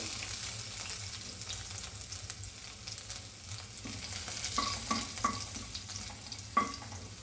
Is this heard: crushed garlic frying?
yes